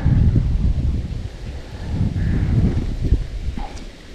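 Wind gusting by a river on a warm June fishing outing, buffeting the microphone with low rumbling bursts that rise and fade, with faint rustling behind.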